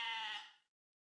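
A single sheep bleat from the video game Quern, a short wavering cry that fades out quickly and is followed by silence.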